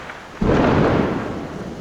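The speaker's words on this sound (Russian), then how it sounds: "Гроза начинается." Thunder opens a thunderstorm over deserted streets during a lockdown in Nepal, a sudden loud rumbling crack that swells and then slowly fades. Rain hisses faintly beneath it.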